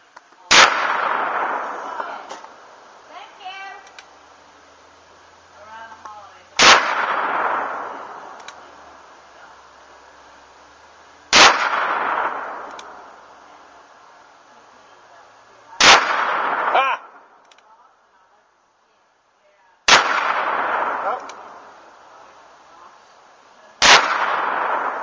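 A Ruger .44 Magnum Blackhawk revolver fires at a ripe casaba melon outdoors: five loud, sharp reports spaced several seconds apart, each trailing off into a long echo, with faint voices in the gaps.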